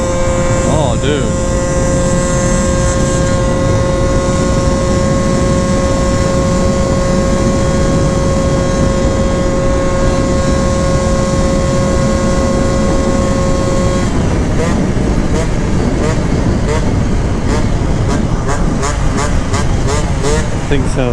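A Honda Elite AF16 scooter fitted with a smart carb idles and revs steadily, a loud continuous engine drone with a whining tone that shifts partway through into rapid pulsing.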